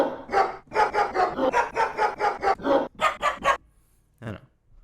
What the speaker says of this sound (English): If you've ever wanted to play a dog on the keyboard